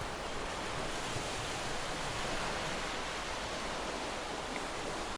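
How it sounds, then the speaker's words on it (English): Steady, continuous ocean surf washing in, a broadband rushing roar with no breaks, fairly close and even in loudness throughout. "Just adding the sound to this surf really changes it up."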